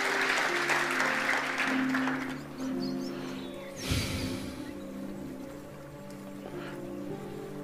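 Applause from a church congregation at a worship service, a dense patter of clapping that swells at first, dips, then carries on more thinly beneath sustained musical tones.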